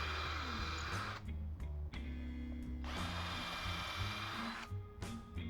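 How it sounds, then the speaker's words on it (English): A power drill bores holes through a pedalboard, the motor whining in several sustained bursts with short pauses between them, close and loud. "take your drill bit and drill it all the way through"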